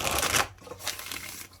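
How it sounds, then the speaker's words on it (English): Tarot cards from a Wild Unknown Animal Spirit deck being shuffled in one quick riffle, a dense papery rush that trails off into softer rustling and card flicks, close and alone. "just a quick shuffle"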